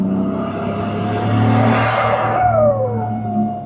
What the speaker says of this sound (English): The RB has that special sound with the twins.